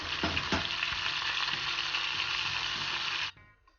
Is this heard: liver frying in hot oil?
yes